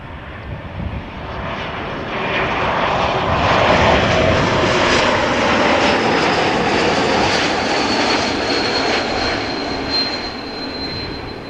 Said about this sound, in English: KLM flight 1072. Almost touching down after 50 minutes of flight.